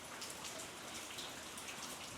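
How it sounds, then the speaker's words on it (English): Rain falls outside an open bathroom window in a steady, faint, even hiss of drops on surfaces, with no other sounds over it. "I don't know if you can hear the rain"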